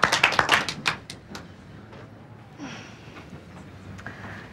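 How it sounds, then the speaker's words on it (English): An exercise class claps for itself in a quick burst of loud, close hand claps lasting about a second, then fades into quiet room noise. "Give yourselves a clap."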